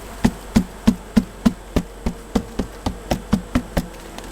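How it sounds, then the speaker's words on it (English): Honey bees hum around a hive frame while a steady series of about a dozen sharp, evenly spaced knocks rings out, as if the frame is being tapped, with no speech. "Get all the bees off of that."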